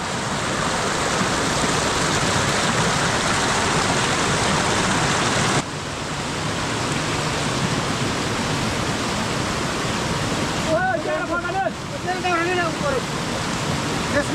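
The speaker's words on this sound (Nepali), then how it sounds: "अहिले चाहिँ हामी खोला आइपुगेको छौँ" A jungle stream in a Nepali village rushes loud and steady, a dense close-up wash of flowing water, with a brief voice surfacing near the end.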